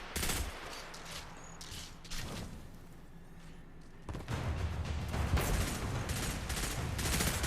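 Gunfire in the mobile version of the Destiny video game: dense bursts of rapid shots and scattered single cracks, loud and continuous toward the end, with a brief quieter stretch in the middle and no talking.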